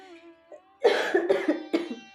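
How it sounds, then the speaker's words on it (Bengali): A few sharp, close coughs in quick succession after a brief hum, loud and raspy. "আমার কাশি যাবে না"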